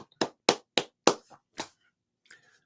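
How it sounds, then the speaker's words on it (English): Five sharp hand claps in an even rhythm, close and fairly loud, followed by a softer sixth clap after a short pause and a faint tap near the end; no talking. "I'm going to clap on that one"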